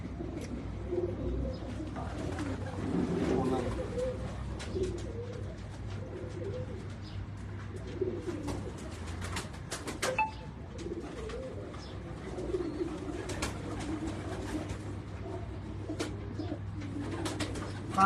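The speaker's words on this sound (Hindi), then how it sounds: "बहुत अच्छा कबूतर है बहरहाल जी, बहुत अच्छे कबूतर का आपका शौक कर रहा है।" Pigeons on a Karachi rooftop coo in a steady, overlapping low murmur that runs throughout, close and moderately loud, with occasional light flutters and no talk.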